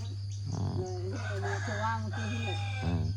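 A rooster crows loudly and close by, one long drawn-out call followed by a second shorter crow, over a steady low hum and faint background voices.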